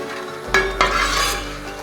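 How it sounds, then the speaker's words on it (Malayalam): Curry leaves frying crisp in hot oil, a close, loud burst of crackling sizzle that starts abruptly and keeps hissing steadily. "നല്ല ക്രിസ്പി ആയിട്ട് തന്നെ കറിവേപ്പില നമുക്ക് ഫ്രൈ ചെയ്തെടുക്കാം"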